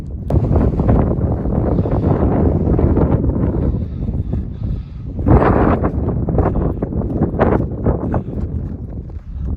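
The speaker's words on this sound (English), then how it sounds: "it's always so windy and cold" Strong, cold wind roaring and buffeting a nearby microphone on grassy balds near Mount Rogers on the Appalachian Trail, loud and continuous with gusty surges, no voices.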